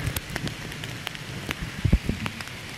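Rain falling along a wooded stretch of the Finger Lakes Trail in July, a steady soft patter of drops on leaves and ground with a few sharper, closer drips standing out against the wash.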